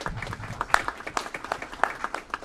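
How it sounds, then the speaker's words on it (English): A small group at a city council meeting claps for a staff member, producing sparse, uneven handclaps with a few sharp, louder claps standing out over a short stretch. "Another round of applause for Nick De Leon."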